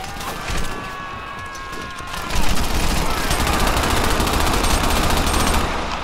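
Enemy gunfire in Crackdown: a quiet start with scattered shots, then a sudden loud burst of rapid automatic fire that rattles on continuously, with a voice heard faintly beneath it.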